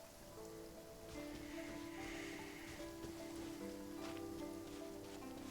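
Steady rain pattering on surfaces in the video game Genshin Impact, a continuous soft hiss of raindrops under gentle tonal game music.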